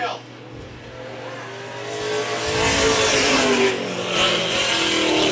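A Toyota race car on a qualifying lap flies off turn four, its engine rising to a loud, sustained roar as it accelerates. A commentator's voice runs over the engine noise throughout.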